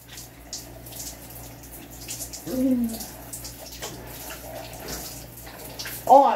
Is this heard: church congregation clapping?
no